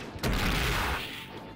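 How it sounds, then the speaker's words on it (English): An explosion in the Naruto War of Shinobi video game, a sudden loud blast that erupts after a brief quiet moment and rumbles on, slowly fading over about a second. "Come on, explode!"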